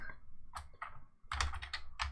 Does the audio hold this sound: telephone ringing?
no